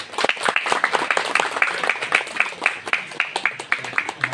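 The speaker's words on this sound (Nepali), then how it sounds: "जोरदारले ताली।" Strong, close applause at a wedding, with many hands clapping in a continuous burst and a few louder individual claps standing out throughout.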